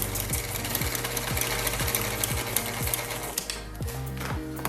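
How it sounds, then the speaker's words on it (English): A sewing machine stitches a tote bag made from a feed bag, its needle hammering in a fast, steady mechanical rhythm with periodic motor whirs, loud and close with no talking. "and then we're going to keep sewing."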